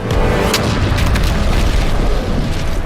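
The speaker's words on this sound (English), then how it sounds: "then an explosion happens, knocking them around" A loud, booming explosion in an animated fight scene, rumbling continuously for about three seconds with crackling bursts layered over it.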